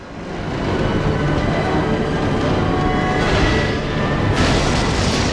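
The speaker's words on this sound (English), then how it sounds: "Tell me we get off this train." An Art Deco train rolls along in the video game Resident Evil 0, a loud, continuous rumbling roar with a heavy low end that holds steady throughout, with no talk over it.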